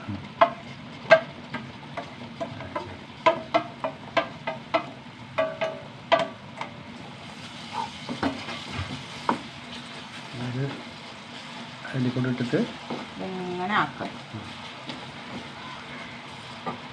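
Small carrots tossed into a hot pan and stirred, giving sharp scraping clicks and a soft sizzle heard close by, with speech running over parts of the clip.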